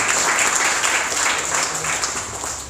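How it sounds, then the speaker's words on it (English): Clapping from the audience at an accelerator demo day in Taipei, a fairly loud, even spread of applause lasting a few seconds, with a faint high tone running through it. "just a round of applause for everybody here"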